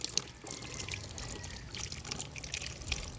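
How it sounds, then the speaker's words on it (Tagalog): Water runs and trickles for soaking a paint brush, a faint, steady splashing with small drips throughout and no talking. "Babad mo sa tubig."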